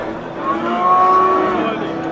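A single long, loud moo from a young cow about ten months old, drawn out and close by, against faint background noise.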